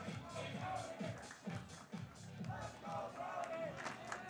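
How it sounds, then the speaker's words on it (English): Baseball crowd at a sectional championship game cheering and shouting steadily to rally the home side toward a late comeback, a dense continuous roar with rhythmic surges. "Crowd going to try and urge on a comeback"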